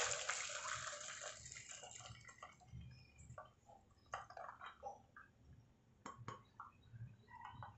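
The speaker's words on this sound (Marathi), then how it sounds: "तर आता याच्यातलं पाणी आपण बाजूला काढून घेऊयात" Water from cooked lentils drains through a sieve into an empty pot: a brief pouring rush at first, then scattered drips and a few light metallic clinks.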